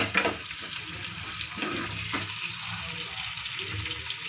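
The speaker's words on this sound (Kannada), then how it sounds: "ಇನ್ನು ಚೆನ್ನಾಗಿ ಕಂದು ಬಣ್ಣ ಬರುವ ತನಕ ಫ್ರೈ ಮಾಡ್ತಾ ಇರಬೇಕು" Tomato gojju fries in a pan with a steady, close sizzle and gentle stirring scrapes, the hiss holding evenly throughout with no talk.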